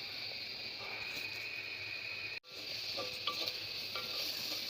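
Masala spices sizzle in oil inside a clay pot, a soft steady frying hiss with faint scraping stirs and a brief cut midway.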